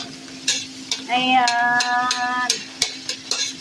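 Green beans, potatoes and corn stir-fried for fried rice, spatula scrapes and clanks ticking against the pan at close range over a light sizzle, with a short spoken word and a brief voiced tone in the middle.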